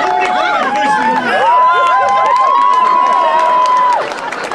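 An audience at a live improv comedy show cheers and applauds, with loud, continuous clapping and whooping that swells, then tails off near the end, and a voice carrying over the top.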